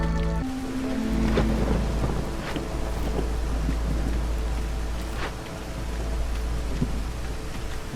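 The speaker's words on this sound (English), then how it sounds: "We're going through our clearance phase, so we're gonna have the storm phase now." Storm phase in the game Against the Storm brings steady heavy rain with deep rolling thunder and gusting wind, a continuous loud wash with a few sharper cracks.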